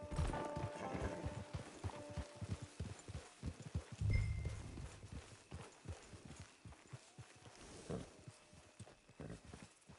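Horse hooves clip-clop in Red Dead Redemption 2 Online as a horse walks up toward camp, an irregular run of close hoof knocks with a brief heavier thump midway and soft background ambience.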